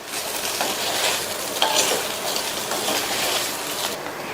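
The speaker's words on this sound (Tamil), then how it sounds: "கருவேப்பிலை இலைகளை சேர்த்துட்டு நல்லா ஒரு தடவை மிக்ஸ் பண்ணி விட்டுறலாம்." Oil-fried brinjal with curry leaves is stirred in a pan, producing a steady, close sizzling hiss with soft scraping strokes throughout, and no voices.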